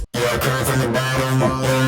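Harsh, heavily distorted and saturated music, dense and crunchy across the whole range, playing loudly after a very brief silent gap at the start.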